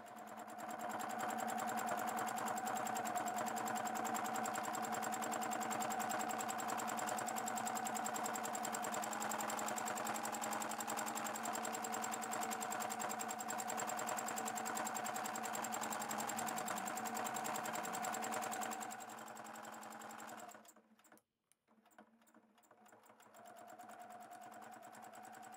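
Sewing machine doing free-motion thread sketching with variegated thread hums loud and continuous, stitching design lines over repeatedly, then pauses briefly and starts again.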